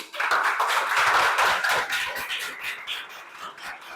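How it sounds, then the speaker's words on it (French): Schoolroom applause for a student at a school in Abidjan, a dense burst of clapping that starts loud and gradually thins and fades. "Est-ce qu'on peut applaudir pour lui?"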